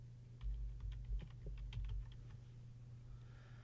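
Quiet, rapid typing on a computer keyboard, a short burst of soft key clicks close by that fades out after a couple of seconds, with a low steady hum underneath.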